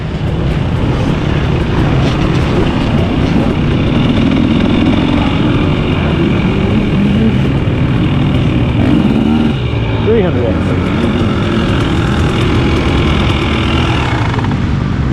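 A 2023 KTM 300XC TBI two-stroke dirt bike ridden through woods at Crow Canyon, its engine a loud, steady buzzing roar with rising and falling revs throughout, a voice talking over it.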